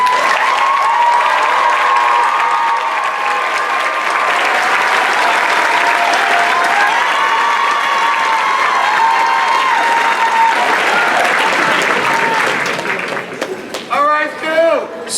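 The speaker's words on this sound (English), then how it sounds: "please rise to be recognized by a round of applause" A commencement crowd at a Class of 2025 ceremony applauds National Honor Society members as they rise, with dense, steady clapping that continues for a long stretch before thinning out near the end.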